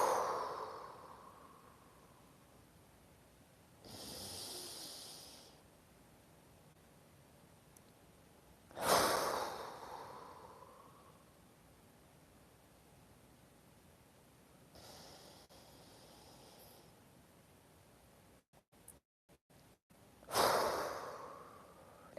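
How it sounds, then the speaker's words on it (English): Slow, deep breaths drawn in through the nose and let out through the mouth during a guided calming exercise, three or four soft rushes spaced several seconds apart with quiet pauses between. "take a big deep breath"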